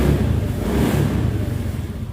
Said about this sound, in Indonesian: untuk berikutnya kita coba hidupkan lagi mesinnya